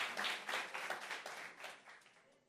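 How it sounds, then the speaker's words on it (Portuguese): A church congregation applauds during a sermon, a dense wash of clapping that swells quickly and then gradually thins and fades over a couple of seconds, moderately close with no voices over it. "aplauda ao Senhor"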